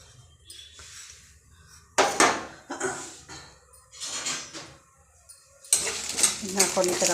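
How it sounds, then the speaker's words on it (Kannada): A spoon scrapes and clatters against a pan while urad dal is stirred and fried, giving irregular metallic bursts over a faint sizzle. "ಹಾಕ್ಕೊಂಡು ಈ ಥರ ಫ್ರೈ ಮಾಡಿಕೊಂಡು"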